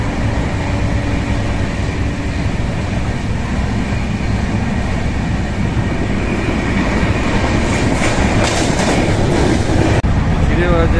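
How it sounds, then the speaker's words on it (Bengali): Inside the Rupasi Bangla Express passenger train running at speed, a loud continuous rumble and clatter of wheels fills the carriage, with brief clicking bursts near the end. "ট্রেন বেশ ভালো স্পিডে যাচ্ছে।"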